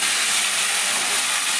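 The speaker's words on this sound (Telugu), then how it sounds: "మసాలా బాగా వేగుతుంది" Masala paste with ginger frying in a pan for a stuffed brinjal masala curry, a steady close hissing sizzle that fills the whole moment without pause.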